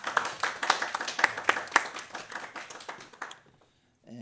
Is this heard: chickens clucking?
no